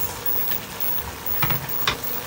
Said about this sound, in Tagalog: So, haluin lang natin to.